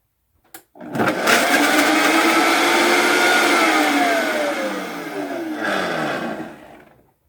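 A loud high-speed blender whirs steadily for several seconds blending pineapple chunks, its motor pitch dipping and rising as chunks hit the blades, then it winds down.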